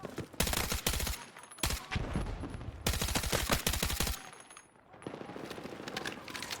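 Rapid automatic gunfire from the KORD-6P67 in the video game Battlefield 6, dense loud bursts with brief pauses between them.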